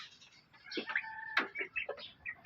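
Upgraded native chickens cluck and chirp in short, scattered calls close by, several bright clucks spread over a couple of seconds in a quiet pen.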